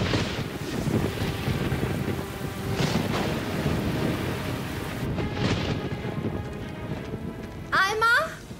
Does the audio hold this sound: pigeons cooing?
no